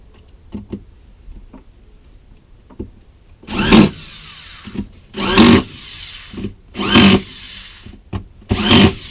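Four loud bursts of a power drill boring holes into the wooden body of a bait hive, each a couple of seconds long, separated by quieter clicks and handling noises.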